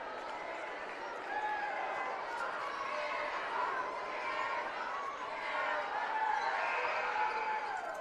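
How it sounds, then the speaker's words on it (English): A crowd at a Twin Lakes boys basketball game makes a continuous, moderately loud din of voices that swells slightly partway through, with overlapping chatter filling the gym. "Draws a huge cheer from the Twin Lakes crowd."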